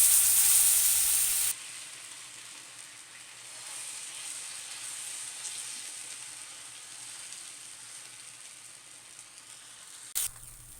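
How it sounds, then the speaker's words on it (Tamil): Rava uttapam batter hits an oiled pan with a loud burst of hissing. It then settles into a steady, quieter sizzle that lasts a long while, with a brief clatter near the end. "இப்போ நம்ம ஊத்தாப்பத்தை ஊற்றிக்கலாம்."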